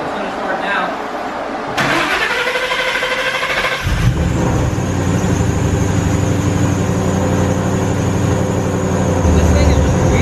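A 900 hp Shelby GT500 cranks and fires up, settling into a loud, steady, deep rumble at idle with a brief rev near the end.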